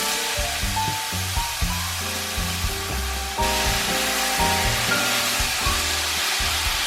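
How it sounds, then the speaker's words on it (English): Shredded potato with green and red pepper stir-frying in a pan, a continuous loud sizzle with repeated scraping and tossing strokes of a spatula, no talking. "Stir fry a little bit and put the potato shreds into the pan too."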